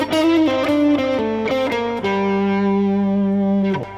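Distorted electric guitar plays a funky blues legato lick in the minor pentatonic scale, with quick hammered and slid notes that settle on a long sustained note. The guitar is loud, close and alone, with effects coloring the tone.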